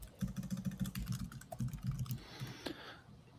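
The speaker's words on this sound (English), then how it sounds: "I think we were both typing" Rapid typing on a computer keyboard during a live online debate stream, a steady run of close, crisp key clicks for about two and a half seconds before it trails off, with no talking.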